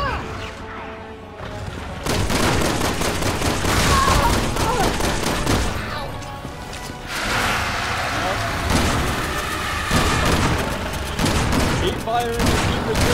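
Gunfire rattles through a Resident Evil 6 fight in long, dense bursts of shots mixed with crashes and booms, pausing briefly before starting up again, loud and up close, with voices heard now and then underneath.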